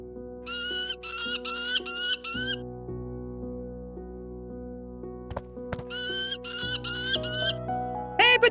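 A small trapped bird chirps in quick bursts of bright, high, rapid tweets, first in a cluster of four, then again after a pause, over a soft sustained musical backdrop with a few clicks.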